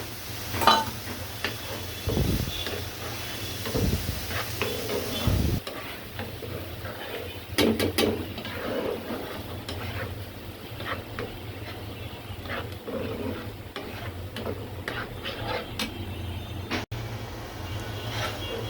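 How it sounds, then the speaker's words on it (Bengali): Ground coconut paste going into a pan of curry with jackfruit seeds and being stirred, scraping and soft sizzling close up with a steady low hum underneath, some clatter from the spoon against the pan. "এখন আমি বাটা নারিকেলটা দিয়ে দিব। এটা হচ্ছে নারিকেল বাটা।"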